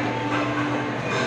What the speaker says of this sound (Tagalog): tawid na, dumana ang train